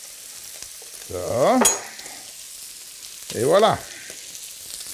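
Chopped vegetables for a bolognese sauce sizzle in hot oil in a pot, with two short bursts of stirring and louder frying around them, while someone speaks briefly.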